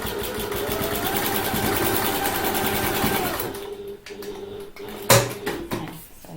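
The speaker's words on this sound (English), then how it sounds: "It's a bit harder to sew this way." A sewing machine runs a continuous stitching burst on a handbag seam for about three seconds, then stops, leaving a few small clicks and handling knocks.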